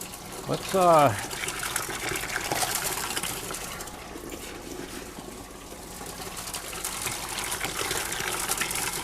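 Damp prospecting material is fed one scoop at a time through a gold box, giving a continuous watery rushing and gritty churning throughout, with a brief tonal squeal near the start.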